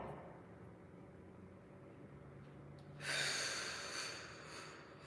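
A slow, audible breath drawn in during an intermediate Pilates back-strength exercise, quiet at first and then swelling into a soft, airy rush of moderate loudness that fades over a couple of seconds, with no talking.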